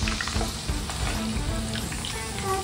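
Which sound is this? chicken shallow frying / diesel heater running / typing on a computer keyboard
chicken shallow frying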